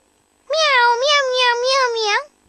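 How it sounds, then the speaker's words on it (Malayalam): A cartoon kitten meowing over the phone, one long loud wavering meow that rises and falls in pitch, with no talk around it. "പൂച്ചക്കുട്ടി ഫോണിൽ സംസാരിക്കുന്നു."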